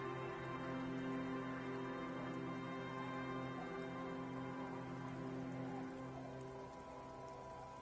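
Steady rain falls and patters on surfaces in the Disco Elysium video game, a dense continuous hiss of drops that holds even throughout before easing slightly near the end, with no talking.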